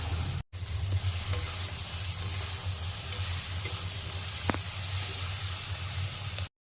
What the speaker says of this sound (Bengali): মশলা দিয়ে যতক্ষণ না তেল ছেড়ে ততক্ষণ কষতে থাকবে